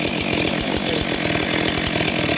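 A Stihl MS 462 chainsaw runs loud and steady at high revs, its dense continuous snarl pulsing with rapid chain chatter, close and unbroken throughout.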